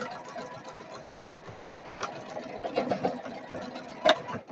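Sewing machine running steadily at moderate volume indoors, with an uneven mechanical whir and clatter that grows busier toward the end.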